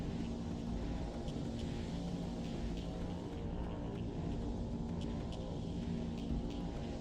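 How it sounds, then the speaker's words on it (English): Deep, steady engine hum of a Covenant Lich in a modded Halo 3, a continuous droning roar that holds level throughout with no speech over it. "Engine sound low-key reminds me of a Half-Life dropship."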